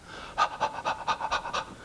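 A man imitates an animal's panting with his own voice: six quick, breathy pants in an even rhythm, close and fairly loud, with no speech around them.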